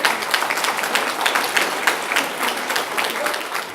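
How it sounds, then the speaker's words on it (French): Guests at a golden wedding anniversary ceremony in Marly applaud the couple, a lively burst of many hands clapping close by, steady and uneven in rhythm for the full length. "Et on peut les applaudir."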